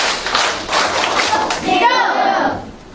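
A children's class audience claps together in a rhythmic group focus clap, several sharp bursts of hand claps in a pattern, with a voice speaking and a brief musical tone near the end.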